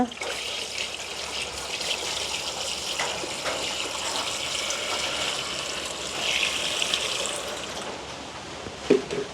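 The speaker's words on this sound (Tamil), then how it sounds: "இப்போ நாங்கள் இந்த கிழங்கு அவியறதுக்கு தேவையான அளவு தண்ணி விட போகிறோம்." Water poured steadily into a cooking pot holding palmyra tubers in a village setting, a continuous close splashing trickle lasting several seconds with a brief sharper splash near the end.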